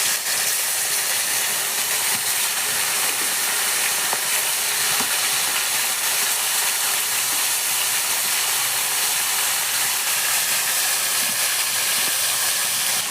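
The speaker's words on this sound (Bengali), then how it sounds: "এবার মাছটা এক এক করে ছেড়ে দিচ্ছি।" Pieces of katla fish drop into hot oil and fry, giving a loud, dense, unbroken hiss of sizzling that holds steady and close for the whole stretch, with no voices.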